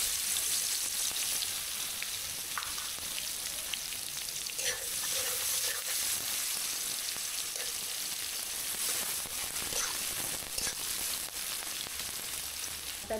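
Onions sizzle and crackle steadily in hot oil left from frying pangas fish, a dense continuous frying hiss with occasional stirring scrapes, close and fairly loud, no voices.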